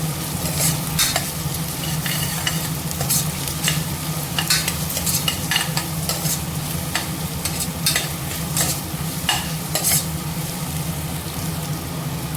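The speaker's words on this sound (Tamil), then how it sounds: "தக்காளி, வெங்காயம், இஞ்சி பூண்டுலாம் வெங்காயம்லாம் நல்லா வதங்கிடுச்சு." Onions, tomato, ginger and garlic sauté in a pan with a steady sizzle, while a spoon scrapes and stirs in frequent clicking strokes throughout, close and fairly loud with no talking.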